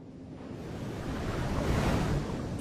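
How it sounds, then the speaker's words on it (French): Ocean waves breaking on a coral reef around a Polynesian atoll, a steady roaring wash of surf that swells slightly, with wind noise and no voices. "Le bruit des vagues et des crépitements du récif l'aide à trouver les contreforts de l'atoll."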